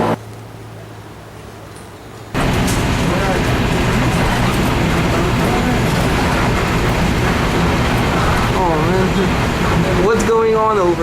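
Busy Bridgetown street in Barbados with buses and traffic rumbling steadily after a quiet start, engines and road noise filling the scene while voices talk over it and a brief horn-like tone sounds near the end.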